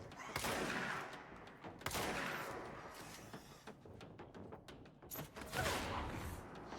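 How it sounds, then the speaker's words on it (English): Shotgun blasts in the video game Control, several sharp booming shots spaced a second or so apart with crackling combat effects between, fairly faint in the mix. "No, I needed to kill you with a shotgun."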